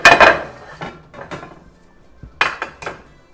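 A metal splatter guard clanks and rattles as it is handled in a lower kitchen cabinet, a loud burst of clattering followed by a few lighter knocks and a final cluster of metallic taps.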